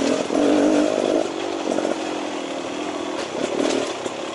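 A 2018 Beta Xtrainer 300 two-stroke dirt bike engine puttering along at low revs, a steady throbbing drone that rises briefly near the start and again toward the end, close and fairly loud with no talking.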